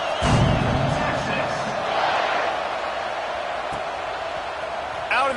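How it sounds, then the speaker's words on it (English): Stadium crowd roaring in the College Football 26 video game as a kickoff is set up, a broad, steady wash of cheering noise that swells slightly and holds throughout. "this crowd now ready to get behind them"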